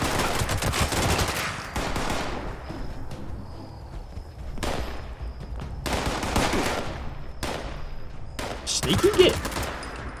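A shotgun with a three-star explosive legendary roll fires in Fallout 76, sounding as heavy repeated blasts in separate bursts with quiet gaps between them, while someone speaks briefly near the end.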